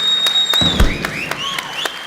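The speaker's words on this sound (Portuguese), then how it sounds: "Uma salva de palmas para ele." A talk-show studio audience gives scattered applause for an interview guest, with sharp, separate claps standing out over sustained electronic tones.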